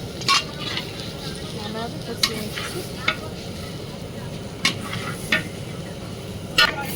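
Rice, potato and pumpkin being sautéed in a pan for vegetarian khichuri: a steady close sizzle with scraping stirs and several sharp clinks of the spatula against the pan, with no talking.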